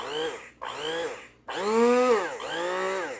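A small electric motor of an Ovente two-speed hand blender whirs in short bursts, pitch rising and falling as it spins up and slows, stopping briefly between runs.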